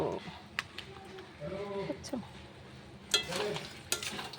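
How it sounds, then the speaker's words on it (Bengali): Food being sautéed and stirred in a pan during home cooking, with soft sizzling and intermittent scraping and clinks of a utensil against the pan, close and moderately quiet, under a speaking voice. "কষাচ্ছি একটু কষিয়ে তারপর জল দেবো"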